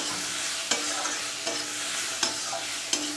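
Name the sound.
stirring bitter gourd fish curry in a pan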